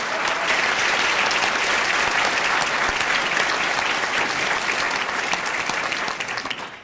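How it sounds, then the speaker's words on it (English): An audience gives a big round of applause for culinary students from Chapel Hill and Tyler ISD, sustained dense clapping that holds steady before fading slightly at the end. "Let's give them a big round of applause."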